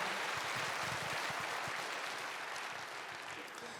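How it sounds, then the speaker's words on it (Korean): Steady, diffuse applause from a church congregation during a Sunday worship service, blessing newly appointed shepherds; a continuous wash of many hands clapping, fairly quiet and gradually fading slightly. "다시 한번 큰 박수로 축복해 주시기를 부탁드립니다"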